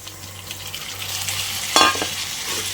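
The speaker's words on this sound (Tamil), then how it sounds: "தக்காளி போட்டு நல்லா வதக்கிக்கலாம்" Tomatoes and crab sautéing in a pan, a steady soft sizzle with a sharp burst of stirring and spattering midway, no voices.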